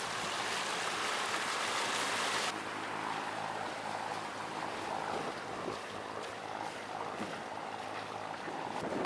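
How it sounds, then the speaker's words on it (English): Waves and strong wind wash past a sailing boat running downwind in about 21 knots of wind, a steady loud roar of water and gusts with heavy wind buffeting on the microphone, no talking. "We've got the waves behind us pushing us, which is always a good thing."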